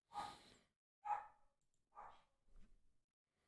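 Dogs bark indoors in short separate bursts, about four barks, fairly close and alone without talk.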